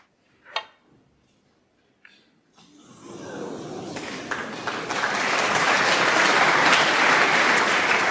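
A snooker crowd starts clapping after a few isolated taps. The applause swells into a loud, sustained, dense ovation that fills the hall, with no clear talking over it.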